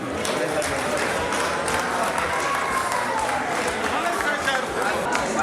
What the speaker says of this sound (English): Let's clap hands for them.